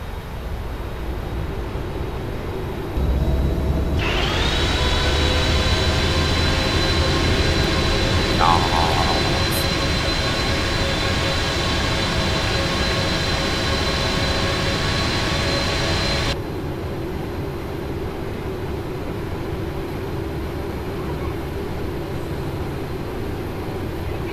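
Loud, steady rushing airflow and engine whine inside a simulated PMDG 777-300 airliner slowing with flaps set, a broad roar that swells in abruptly, holds with tonal hum for about twelve seconds, then drops back to a lower background rumble.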